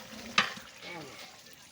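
Chana dal added to chicken in a large pot over a village wood fire, giving a soft frying sizzle with a quick sharp stir scrape near the start, close and fairly quiet.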